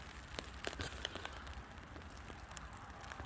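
Rain patters on a bivvy bag during a windy midwinter wild camp in an urban spot, a dense close crackle of scattered drops with occasional louder taps over a soft steady hiss.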